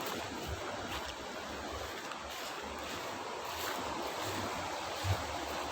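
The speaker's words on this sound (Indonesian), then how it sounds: "yang bagian sungai agak kecil mengalir ke arah barat" A small river flows westward with a faint, steady broadband rush of water, continuous and soft throughout with no voices.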